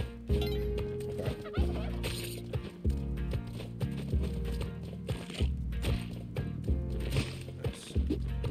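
Turkeys gobble in the Spelunky video game, blended into loud, steady game music with a thumping rhythmic beat that runs throughout.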